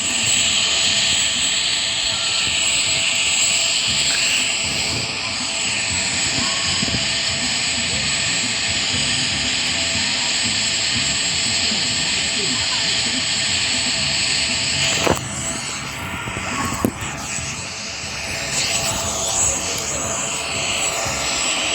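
Jet airplane engine in the Roblox video game, a steady loud roaring drone with hiss that holds for the whole stretch, with a couple of brief knocks near the end and voices talking underneath.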